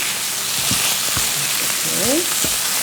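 Eggs and tofu for a tomato egg stir-fry sizzle steadily in a pan while a utensil gently stirs, adding soft scraping strokes over the continuous frying hiss.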